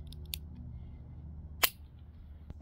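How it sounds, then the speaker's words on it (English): A restored 1880s Hopkins & Allen 38 caliber XL No 4 single-action revolver is cocked and dry-fired, giving a few sharp, close metallic clicks, with a crisp snap near the middle and another at the end over a quiet background. "at this point, it should cock and fire just fine"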